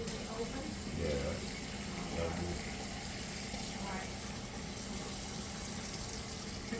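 Cold water runs steadily from a kitchen tap, a constant broad rush filling the background while a person speaks briefly over it.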